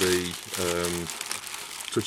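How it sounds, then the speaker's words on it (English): A small plastic bag crinkles as it is fitted over a plant pot in an allotment, bursts of rustling under a voice speaking close by. "just get yourself a little plastic bag, and then place the plastic bag over the pot like that"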